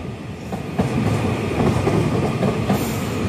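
TransPennine Express unit 390154 runs past on the line, a steady loud rumble of wheels with faint rhythmic clacks over the joints, continuous for a few seconds.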